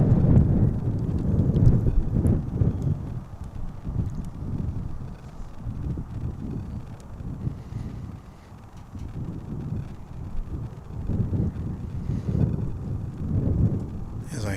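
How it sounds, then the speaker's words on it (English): Wind gusts rumble against a microphone outdoors at an airport, rising and falling in low blustery waves for several seconds with no other clear sound. "Wind picks up."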